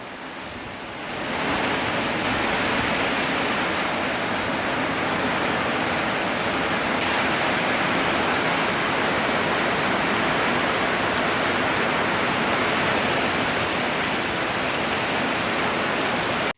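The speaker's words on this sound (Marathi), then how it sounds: "बघा पाऊस अजून डबल वाढलाय" Heavy rain pours onto a tin sheet roof at a farm, a dense, loud, steady roar that swells in within the first second and continues unbroken with no voices.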